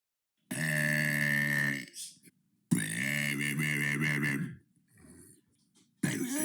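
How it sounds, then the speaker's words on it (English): Two long, loud, deep burps, each lasting over a second, with a shorter, softer belch between them and the start of another at the end. "That was day 40 of burping for 100 days."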